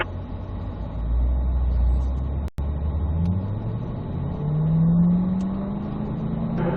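Corvette Z06 pulling away in manual mode, a deep engine rumble rising in pitch as it accelerates through the gears, with one brief dropout and steady loud drone.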